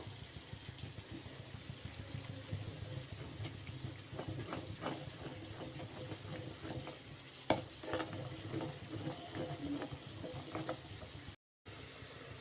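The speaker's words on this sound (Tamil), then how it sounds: "இப்போ கொஞ்சம் கொஞ்சமாக சர்க்கரையை போட்டு கலக்கிட்டே வரணும்." Sugar being stirred bit by bit into thick wheat halwa in a pan, a quiet, continuous scraping and squelching of the spoon, with irregular strokes and one sharper knock partway through.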